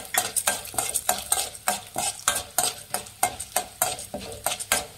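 Urad dal fried in a pan for Mangalore cucumber sambar, stirred with a spoon in steady scraping strokes over a soft sizzle, close up with no talk.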